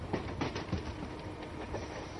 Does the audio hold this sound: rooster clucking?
no